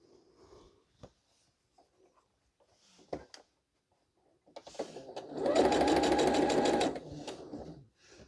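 A sewing machine stitches quilt block pieces together in a steady whirring run of about two seconds, preceded by fabric handling and small clicks and ending with a slower tail, close and without talk.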